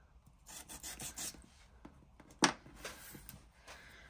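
Sanding paper ephemera for a junk journal, a few soft, faint rubbing strokes with one sharper scrape partway through, close and quiet.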